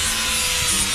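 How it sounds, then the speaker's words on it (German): A chainsaw is carving an owl from wood at a live chainsaw-art demonstration, giving a loud continuous buzzing rasp throughout with no voices. "Und jetzt möchte ich euch kurz mal hier live Holzkunst, Kettensägenkunst zeigen."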